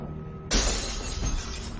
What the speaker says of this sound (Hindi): मैंने बस टेरेस का दरवाजा खोला और ये कांच फूट गया